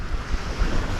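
Large 3.5-metre ocean waves toss a sailing boat on a crossing toward the Faroe Islands, with steady surging wash and rumbling wind buffeting the microphone throughout the short burst.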